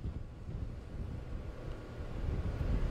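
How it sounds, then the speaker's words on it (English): Gusty wind from Hurricane Irma in the Bay Area of Pinellas County, a steady roaring rumble that swells louder toward the end, with no talking. "these gusts of winds are still very prevalent throughout the Bay Area"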